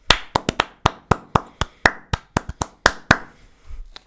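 A single pair of hands claps about fifteen times, sharp and close, in an uneven rhythm with brief pauses, and stops before a faint low rumble at the end.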